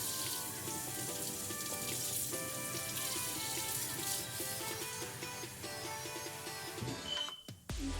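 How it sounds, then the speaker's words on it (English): Hot water is poured into a pizza dough mixture, a steady close splashing and trickling that runs for several seconds and then stops abruptly near the end. "So I'm going to add in this second cup of hot water into the mixture."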